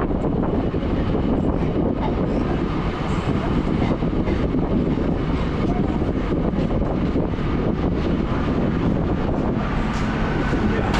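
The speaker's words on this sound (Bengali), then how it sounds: "4 মিনিট আগে আমার ট্রেনটা ঢুকিয়ে দিয়েছে" A train rolling into Kanchipuram railway station, a continuous loud rumble of rail and carriage noise with wind buffeting the microphone, steady and close for the whole stretch.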